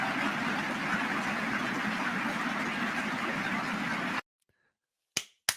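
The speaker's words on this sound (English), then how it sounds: "Woo! They're clapping." Senators applaud in a legislative chamber: a dense, sustained burst of many hands clapping stops abruptly, followed by silence and then two sharp, isolated claps.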